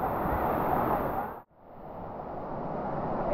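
Steady broadband rush of water pouring down Aruyan Falls in Sabalayan, Occidental Mindoro, a continuous roar that dips briefly near the middle before swelling back to full strength.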